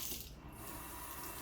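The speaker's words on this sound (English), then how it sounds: "So when I do this, I leave the water running. This is super hot water." Hot water running steadily from a tap into a sink, a continuous splashing rush that stays fairly faint and even throughout, with no talk.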